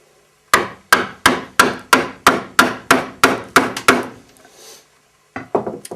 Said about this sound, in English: when you're cutting a mortise, you work from one end to the other